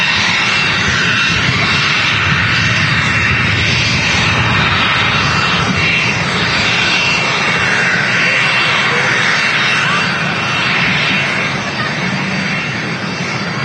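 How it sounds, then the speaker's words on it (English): A business jet arriving from Madrid touches down at Manchester Airport, a loud continuous jet roar with rumbling low end that swells and holds steady throughout. "Also had a BizJet touching down as well"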